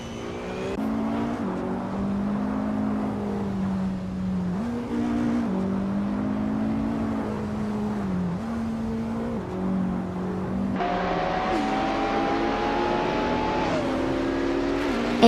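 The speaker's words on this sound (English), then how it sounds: "Michael Schumacher is driving a 1993 Jaguar XJ220" 1993 Jaguar XJ220 race car engine in a racing video game, a steady buzzing drone that steps up and down in pitch through repeated gear shifts, then swells louder and brighter near the end as the car accelerates.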